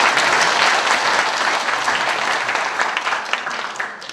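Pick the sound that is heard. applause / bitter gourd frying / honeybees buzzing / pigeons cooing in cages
applause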